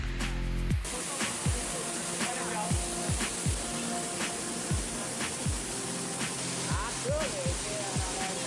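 Constant broadband rushing of a 20 to 30 foot waterfall pouring into the Oyo River in Indonesia fills the clip, with repeated low thumps and a faint voice buried underneath.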